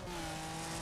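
A car drifting on concrete in the racing game Wreckfest, a short, steady engine drone with a held tone, continuous and moderately loud with no breaks.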